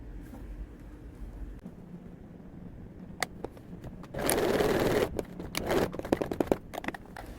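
A sewing machine stitches a zipper onto a piped cushion cover. It hums softly at first, then a louder burst of rapid mechanical stitching starts midway, with scattered clicks and pauses.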